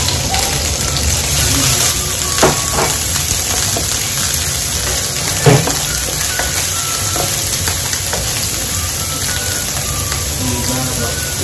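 Onions frying in a pan for mortadella pasta give a steady, close sizzle with occasional soft clicks of stirring and a few brief louder knocks, continuous throughout.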